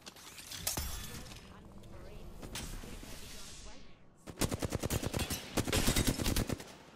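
Enemy gunfire in the battle royale game Apex Legends, a few sharp shots and a glassy shatter, then a rapid burst of automatic fire with loud repeated cracks near the end.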